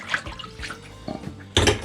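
Water splashes and pours briefly into a filter jug, with scattered small sounds before a louder burst of pouring near the end.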